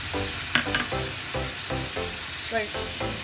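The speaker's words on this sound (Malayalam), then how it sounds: "ഇനി നമ്മളിതിലേക്ക് ഇഞ്ചി പേസ്റ്റ് ചേർത്ത് കൊടുക്കാം." Ginger paste fries in a pan for a dried-fish biryani masala, a steady sizzle broken by rhythmic scraping strokes of a spoon, close and clear with no talking.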